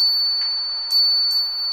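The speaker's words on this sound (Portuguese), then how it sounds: "Esse aqui é um dos sinos mais vendidos." A feng shui door chime rings with bright metallic strikes, a few clear chimes that leave a long sustained high ring, close and loud.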